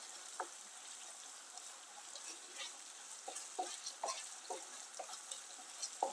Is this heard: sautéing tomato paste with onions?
yes